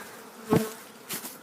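Honeybees settle onto empty bait hive boxes, giving a soft background hum with two brief louder buzzes as single bees pass close by, the first near the middle and the second toward the end.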